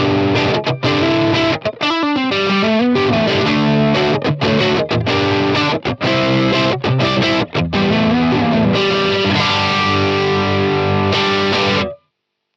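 Electric guitar played through MIKKO Reflex cabinet modeling, a dense distorted tone with chords and single-note runs, continuous and loud for about twelve seconds before stopping abruptly.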